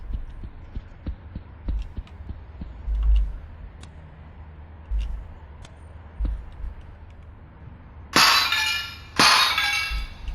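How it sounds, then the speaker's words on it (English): Glass shatters in a sci-fi video game set in a cyberpunk city, two loud crashing bursts arriving close together near the end after a stretch of quiet ambient hum and soft thumps. "you can see the delay I was talking about with the shatter noises"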